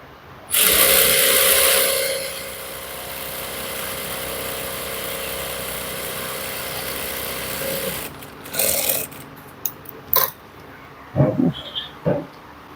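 A sewing machine runs in a steady, loud whir while stitching trousers, then falls into several short, separate bursts and clicks near the end.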